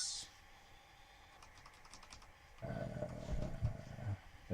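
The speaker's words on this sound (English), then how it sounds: "you do that by pressing the keys that correspond to the colour" Keys pressed on a Sinclair ZX Spectrum keyboard while playing Steve Davis Snooker, a few light taps early, then a busier, louder stretch of clicks and game noise toward the end.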